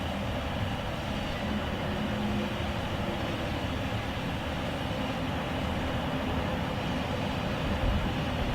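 A BNSF eastbound G-series grain train rolls through downtown St Paul as a steady, loud broadband rumble and rail roar holding constant without pause, no voices.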